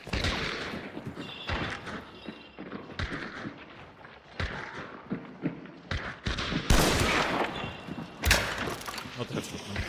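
Gunfire in the horror game Devils Trail, with repeated sharp bursts scattered through the scene and a louder, denser volley near the end, over busy background game noise.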